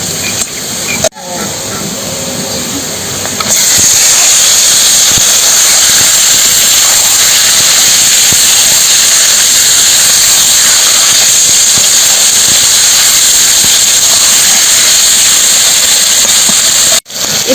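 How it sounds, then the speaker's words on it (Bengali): Chicken hitting a pan of deep-browned fried onions, a loud hissing sizzle that jumps up after a short pause and holds steady and close until a brief break near the end. "পেঁয়াজটাকে দেখো এই যে লাল লাল করে ভেজে নিয়েছি এবারে এর মধ্যে চিকেনটা দিয়ে দেবো"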